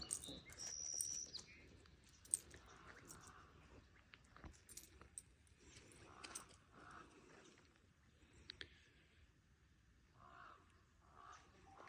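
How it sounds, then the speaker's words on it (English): Birds call and chirp in a redwood forest on a morning walk, scattered tweets near and far over quiet ambient background. "listen to the birds."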